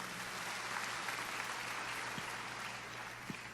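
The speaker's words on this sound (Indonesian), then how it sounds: "beri tepuk tangan yang meriah buat Tuhan" Congregation applauding during a church service, a steady wash of many hands clapping at moderate distance with a constant low hum beneath, no voices over it.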